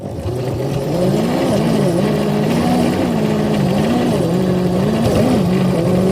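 A model train engine pushes through snow across a turntable, its motor giving a steady, close whine that wavers slightly in pitch over a constant rumbling hum, with no talking.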